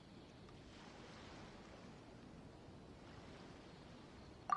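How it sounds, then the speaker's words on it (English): Gentle ocean waves lapping at a harbor in the video game Genshin Impact, a faint, steady wash of surf with a small click at the very end. "Oh, and the sound of the waves"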